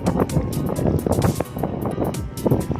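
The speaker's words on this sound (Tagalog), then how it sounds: "Ayan po yung motor ni na Kuya Bong" Motorboat engine at low tide in Bicol, a rough irregular churning with bursts of splashing and noise, fairly close, with no talk.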